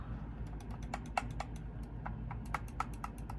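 A Logitech computer mouse gives a quiet run of sharp, irregularly spaced button clicks at close range, with no one talking.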